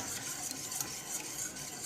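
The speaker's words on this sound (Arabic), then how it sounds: "بعد نحرك بيان ما يديروش ديجريمون." A spoon stirring a mixture with milk in a pan, giving a soft, continuous scraping and swishing close by, fairly quiet and steady throughout.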